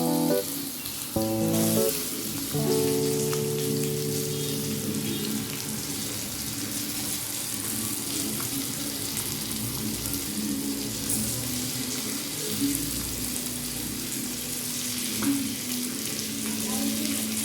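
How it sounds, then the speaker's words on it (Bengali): Potato and pointed gourd pieces tipped into a hot pan for a Bengali curry, an initial clatter followed by continuous close sizzling and occasional stirring, with no talking. "এবার আলু পটলটা ঢেলে দেব, দিয়ে তারপরে নেড়ে তারপরে জল দিয়ে দেব।"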